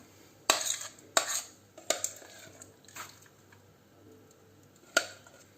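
A whole batch of cream goes onto a cake layer for a quick ten-minute cake, with a handful of sharp, close utensil clicks and soft scraping strokes spaced a second or so apart, no talking.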